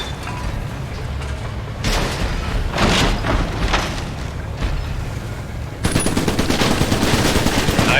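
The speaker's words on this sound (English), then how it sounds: "Now take aim at that fake tube target and blow it away." Rapid gunfire from the Iron Brigade video game, a sustained loud mechanical rattle of shots blasting a tube target, with heavier booming bursts midway and a harsher, brighter barrage near the end.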